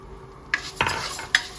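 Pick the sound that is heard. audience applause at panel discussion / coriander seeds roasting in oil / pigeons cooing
coriander seeds roasting in oil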